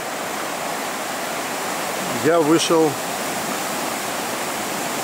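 The Razdolnaya river rushes with a steady, broad roar heard close by, early in the morning, while someone briefly speaks over it in Russian partway through.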